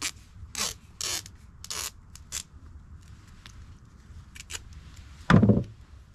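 Tape is pulled off a roll and wrapped around two blue power wires on a boat, giving several short, close ripping bursts with quiet gaps and a louder, longer tear near the end.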